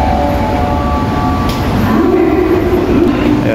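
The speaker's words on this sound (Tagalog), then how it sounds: "nasa train na kami" A train runs from Shinjuku toward Sanrio Puroland, giving a steady loud rumble and rattle of the carriage from inside with a faint rising whine. It is continuous across the short stretch and carries no clear talking.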